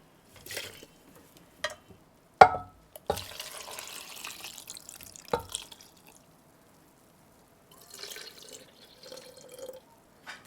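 Soy sauce brine is poured over wild pine mushrooms in a container, giving close splashes, drips and a few sharp clinks, a longer pour in the middle, then a soft trickle after a quiet gap.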